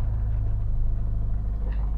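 A car with a suspected holed exhaust pipe or misaligned muffler runs with a loud, steady, deep rumble, close by and continuous, with no voices.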